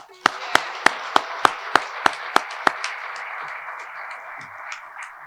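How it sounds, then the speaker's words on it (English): Clapping at a casino's one-year anniversary celebration in Portsmouth, Virginia: about nine crisp, evenly spaced claps in a steady beat, then fading into a soft room murmur. "How about a round of applause for our first year on Victory?"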